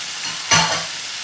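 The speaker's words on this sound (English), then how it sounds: "I'm going to throw in the cauliflower." Cauliflower goes into a hot pan for aloo gobi and sets off a sudden loud, close sizzle that flares up then fades quickly into a softer hiss within about a second.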